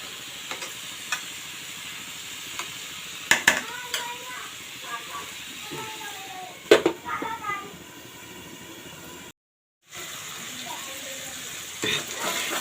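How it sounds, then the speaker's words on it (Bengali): Ash gourd with shrimp fries in a pan, giving a soft continuous sizzle with occasional stirring scrapes. Someone speaks over it throughout, and there is a brief gap of silence near the end. "আমি আরও একটু লাল লাল করে ভাজবো।"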